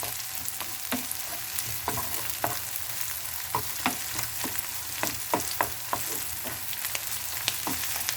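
Peppers and onions sizzle steadily in a hot pan, with frequent sharp scraping and stirring clicks close by.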